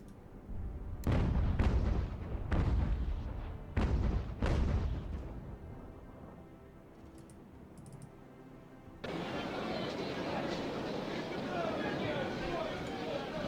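Ship cannons firing broadside in a naval battle from Ultimate General: American Revolution: several heavy booming shots in quick succession, each with a rolling decay, then a quieter lull before a broad roar of battle noise rises and holds.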